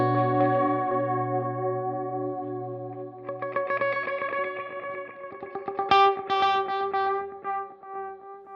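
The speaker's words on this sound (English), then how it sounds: "So this is now the chorus instead of the vibrato." An electric guitar chord rings out through the chorus setting of a UAFX Starlight Echo Station pedal, shimmering and sustained, followed by several more strummed chords with a wavering, echoing chorus character.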